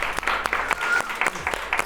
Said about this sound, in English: Oh, perfect. Round of applause.